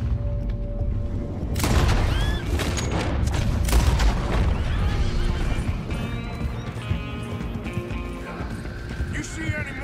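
Horses whinny and clip-clop in Red Dead Redemption 2, with hoofbeats and a loud neigh rising over a busy scene of booms and background speech.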